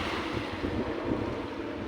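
Ocean surf washes onto the shore of Tenerife in the Canary Islands as a continuous broad roar, mixed with wind buffeting the microphone and no clear pause between waves.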